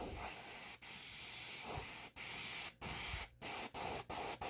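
An airbrush shoots bursts of compressed air in a steady hiss, cut into about eight short blasts by brief pauses near the mic, with no voices.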